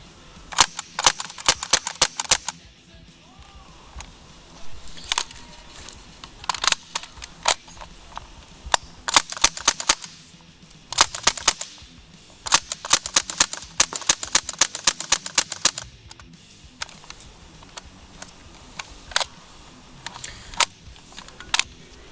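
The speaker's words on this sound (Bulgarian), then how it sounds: "Heckler & Koch MP5K PDW има и откат на затвора." An airsoft Heckler & Koch MP5K PDW 4.5 mm fires in rapid bursts, its bolt recoil giving each shot a sharp mechanical snap, with loud clustered volleys separated by short pauses and no talking.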